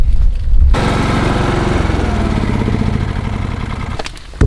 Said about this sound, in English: If you hear the generator in the background, we're charging batteries.